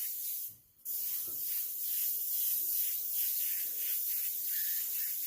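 An airbrush hisses steadily as it sprays paint over black on a tumbler, pausing briefly near the start, then continuing in a soft, even stream.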